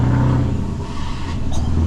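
A Scania V8 truck with straight-piped exhaust revs up loudly and close, a brief deep roar that holds steady and then swells again.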